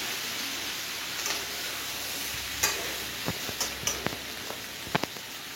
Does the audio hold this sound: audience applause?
no